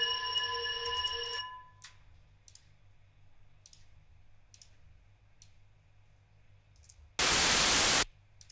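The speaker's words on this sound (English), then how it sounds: "So it's white noise." Synthesized white noise in a music production program: a loud, flat hiss burst lasting about a second, after a held electronic tone and scattered soft clicks in near silence.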